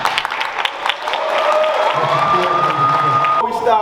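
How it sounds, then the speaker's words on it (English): A crowd at a high school signing day ceremony applauds the students, with scattered claps swelling into loud, sustained clapping mixed with cheers and whoops, and a voice starting to speak near the end. "let's give every last individual student up here a huge hand clap."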